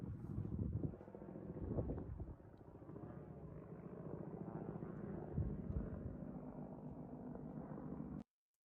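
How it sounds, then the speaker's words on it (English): A helicopter over Ukraine hunting a drone makes a steady, muffled rotor and engine roar mixed with wind buffeting, with a few faint sharp cracks, continuous for about eight seconds before it cuts off abruptly. "this is the helicopter shooting down the drone."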